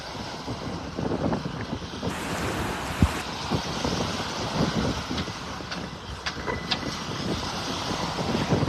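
Wind gusts across a beach in North Naples, Florida on a dry, breezy morning, with a constant loud buffeting rush over the microphone and the wash of surf underneath.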